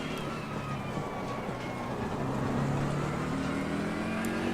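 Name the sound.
McLaren cars driving past in a racing video game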